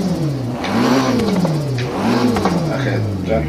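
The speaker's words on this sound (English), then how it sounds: "And what you're going to do is rev all the way up." A car engine in Forza Horizon 3 revs while stopped on the road, tuned to sound cammed, rising and falling in two loud, lopey sweeps close by, with a voice talking over it.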